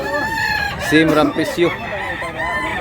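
Roosters and hens for sale, including a three-year-old bird, cluck and call in quick bursts, with a drawn-out crow-like cry, while people talk among them.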